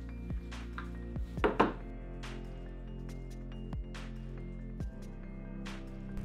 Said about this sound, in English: now I can start dipping the model into this liquid ceramic material called Suspendaslurry